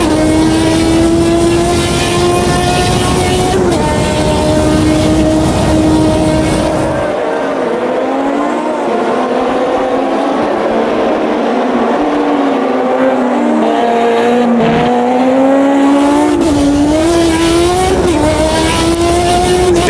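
A 1986 turbocharged Formula 1 car in the racing game Automobilista 2 howls loudly and continuously, its engine pitch climbing through gears, dropping on shifts and rising again, heard up close throughout.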